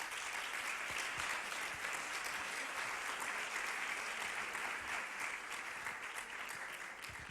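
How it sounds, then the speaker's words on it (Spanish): Audience applause at a public talk on Wikipedia's reliability, a dense, steady wash of many hands clapping from a sizable crowd, sustained evenly for several seconds without any voices. "Se merece un aplauso."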